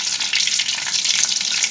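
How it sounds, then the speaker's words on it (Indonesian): Tempeh sizzles in hot oil in a home kitchen, a steady, close, dense crackle of frying with light stirring and no talk. "Goreng tempe dulu."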